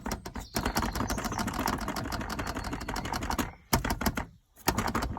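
A loose bumper part on a VW Amarok pickup rattles in a dense, rapid clatter of sharp ticks, close and fairly loud, pausing briefly near the end before resuming.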